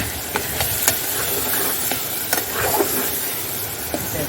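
Roasted coconut paste sautéed with mutton paya in a pan gives a close, continuous sizzle and hiss, broken by several scraping strokes and clicks of a spatula as it is stirred, with no talking.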